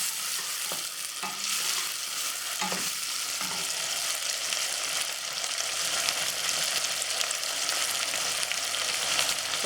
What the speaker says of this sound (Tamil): தக்காளி வந்து கொஞ்சம் நல்லா வதங்கட்டும்.